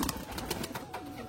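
A pair of pet fancy pigeons coo softly nearby in a short, gentle burst, fairly faint, with no talking over it.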